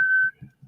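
A man whistles a steady high note from the Speed Racer theme, brief and clear, then it fades out under low murmuring in the room.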